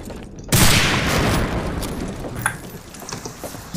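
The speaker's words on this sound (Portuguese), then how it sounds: "Este é sniper, acho eu." A single loud sniper rifle shot cracks out in the World War II shooter game Medal of Honor: Allied Assault, followed by a long rumbling echo and a few faint, scattered clicks.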